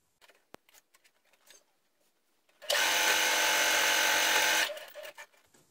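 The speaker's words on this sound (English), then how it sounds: "And you're going to sew it down here." A sewing machine runs steadily for about two seconds, stitching fabric for a Lolita-style bow, with light handling taps before and after.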